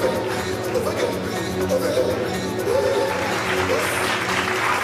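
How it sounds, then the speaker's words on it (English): Summit audience applauding the Connected Africa Summit 2026 award winners, dense sustained clapping with crowd chatter and voices mixed in. "A big round of applause for our winners for the Connected Africa Summit 2026 Awards."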